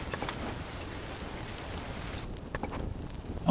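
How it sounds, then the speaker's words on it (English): Steady rainfall pattering across the landscape in the survival video game Survival: Fountain of Youth on Iron Island, a dense continuous hiss that thins slightly toward the end, with no voices. "The rain has stopped."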